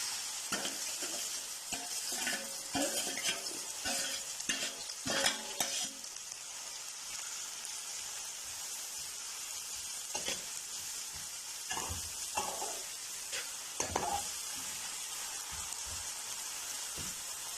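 Chopped onions frying with cloves in a pan for fish curry, a quiet, close sizzle broken by repeated scraping stirs and light utensil knocks.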